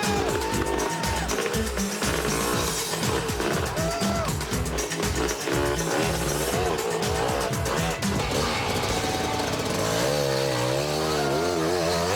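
A big four-stroke Honda CR450R motocross bike races hard in an indoor stadium event, its loud engine revving and bouncing through rapid throttle changes alongside other bikes, with crowd and arena noise behind.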